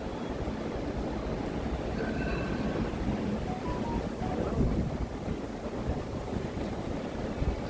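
Wind blows steadily outdoors on the elevated High Line Extension park near Hudson Yards in New York City, a loud, continuous rumbling buffet across the microphone with no break.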